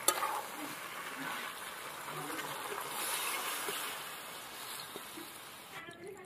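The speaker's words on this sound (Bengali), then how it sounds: "তো এবার আমি জল দিয়ে দেবো" Water poured into chicken curry frying in a pan, giving a steady broadband hiss and sizzle that holds for several seconds and fades slightly toward the end.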